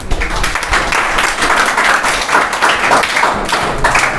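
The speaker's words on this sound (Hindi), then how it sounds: "एक बार उसके लिए जोरदार तालियां।" A crowd at a Hindi motivational speech breaks into loud, sustained applause, dense overlapping claps with a few sharper taps and thumps, steady throughout about four seconds.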